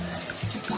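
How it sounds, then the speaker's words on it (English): Cold water pours onto chopped vegetables in a blender jug before blending, a close, gurgling, splashing stream that runs continuously through the brief moment with no talk. "So now I'm adding a little cold water to my vegetable so I can blend it"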